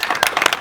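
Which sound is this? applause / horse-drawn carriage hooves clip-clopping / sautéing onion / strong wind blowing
applause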